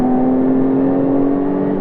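Jaguar F-Type Coupe V6 S engine droning steadily while driving, a loud, constant tonal hum inside the cabin with no speech over it.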